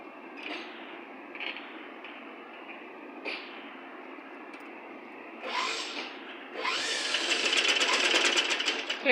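A sewing machine sews invisible piping onto cloth: a few brief taps and short starts, then a steady, louder run of stitching toward the end.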